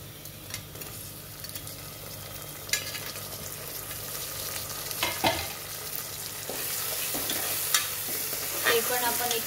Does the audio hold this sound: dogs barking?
no